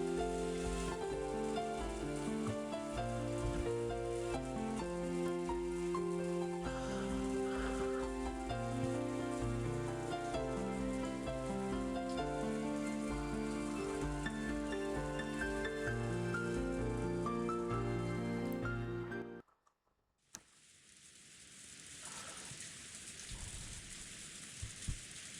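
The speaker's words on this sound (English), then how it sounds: "As Angie slept, she was wrapped up in the soft sound of the rain" Soft, steady rain from the Umineko visual novel follows a long stretch of layered music that cuts off abruptly, leaving a continuous hiss of rainfall for the last few seconds.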